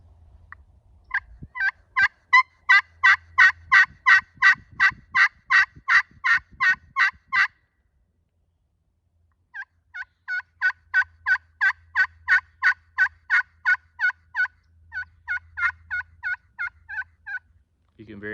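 Close, loud turkey yelps from a slate call worked with a striker, in two long rhythmic runs of evenly spaced notes separated by a short pause.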